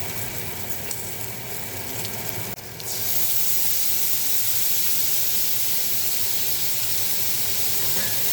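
Tofu fries in oil in a pan for a vegetarian noodle stir-fry, a soft steady sizzle that jumps to a louder, even hiss partway through and holds there, close and without talk.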